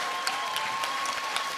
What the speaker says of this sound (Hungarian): úgyhogy nagy tapsot kérünk!